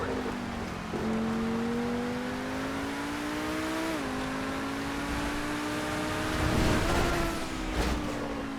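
A steady, high-revving drag car engine in a racing video game drones continuously, its pitch stepping up through gears, with tire noise and a louder surge near the end.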